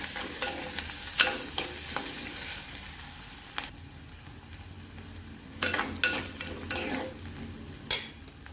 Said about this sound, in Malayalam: അതൊന്ന് ഇളക്കി കൊടുക്കാം.